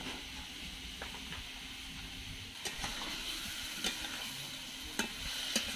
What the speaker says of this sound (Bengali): আলুটা এখন মশলা দিয়ে কিছুক্ষণ কষিয়ে নেবো ভালো করে